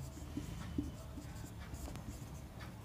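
Chalk or marker scratches on a board during a lecture, faint and intermittent, in soft strokes against a quiet room.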